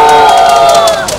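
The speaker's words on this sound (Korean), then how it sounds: "우리 함성과 함께 박수." A gathered crowd at an outdoor press conference demanding action on sexual violence lets out a loud sustained shout, sharp claps cutting through the cheering as the voices trail off.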